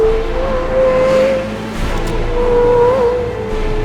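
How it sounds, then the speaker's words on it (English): A Porsche Carrera GT's naturally aspirated, screaming V10 holds a loud, steady high drone that dips briefly mid-clip before rising again, with no talking. "With its manual gearbox, carbon tub, and of course, naturally aspirated, screaming V10."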